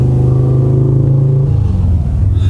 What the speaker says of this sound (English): what's that loud motorcycle?